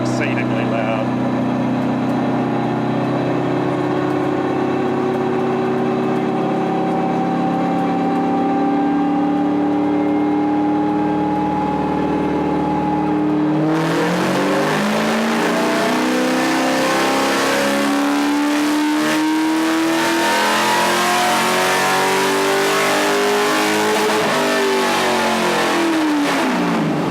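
Nissan Silvia S14 drift car engine on a dynamometer, first idling and rising steadily, then bursting into a very loud, hard rev that sweeps up and down for the rest of the stretch, raw and close.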